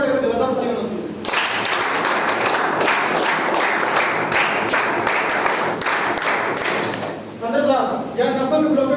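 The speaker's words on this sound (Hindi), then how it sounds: "इसके लिए सर जबरदस्त ताली होना चाहिए।" Enthusiastic audience applause at a training meeting, a loud sustained burst of clapping that fills most of the moment, with someone speaking before it starts and again as it dies away.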